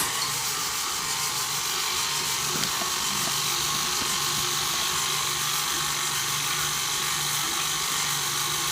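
An electric mixer whirs through Crisco shortening and white sugar, a constant high-pitched motor drone with a gritty, scraping texture, loud and close, running without pause.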